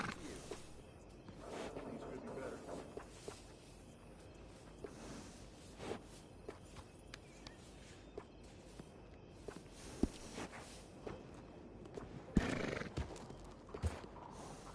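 Horses in Red Dead Redemption 2 give a couple of short whinnies and snorts over a soft clip-clop of hooves and faint creaking tack, set against a quiet ambient bed, with brief voices heard now and then.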